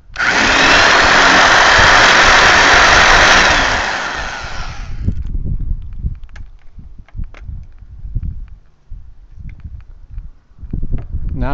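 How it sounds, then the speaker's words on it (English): A power drill with a 1/8-inch bit whines loudly and steadily for several seconds while drilling holes during vinyl fence repair, then stops. Clattering handling noises and soft bumps follow nearby. "now I'm going to finish drilling the holes with the 1/8-inch drill"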